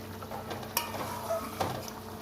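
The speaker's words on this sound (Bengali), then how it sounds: "চিলি এগ রান্না করছি আমি আজকে" Chili egg frying in a pan, with a soft steady sizzle and a few sharp clinks of a utensil against the pan.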